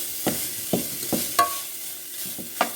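Sirloin sizzling in a hot pan as a spatula stirs and scrapes it, a steady close fry broken by several distinct scraping strokes, with no speech.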